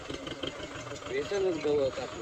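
A tractor engine idles with a steady mid-range rumble and a faint whine rising toward the end, while a person talks nearby in a farm field during wheat sowing.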